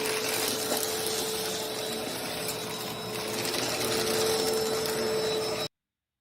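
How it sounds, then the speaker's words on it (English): Vacuum cleaner running over a dingy, stained carpet: a steady, loud motor whine with a constant hum and rough suction noise, holding evenly for several seconds before stopping abruptly. "vacuuming"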